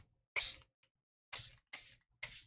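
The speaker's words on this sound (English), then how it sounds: "Spray bottle." Four quick bursts of a spray bottle misting, with pauses between them, close and fairly loud.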